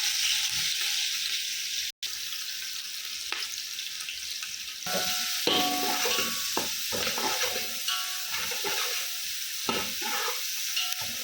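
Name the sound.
onions sautéing in a pan for green pea pulao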